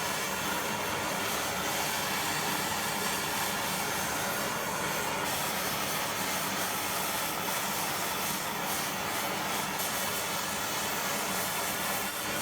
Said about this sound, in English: I'm just going to heat it and see if I can burn off any residual grease on this